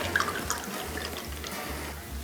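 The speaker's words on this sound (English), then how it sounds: "Julep strainer in and pour." A cocktail with vermouth, sherry and maraschino trickles through a julep strainer into a small coupe glass, a soft, close liquid stream lasting about two seconds with faint drips.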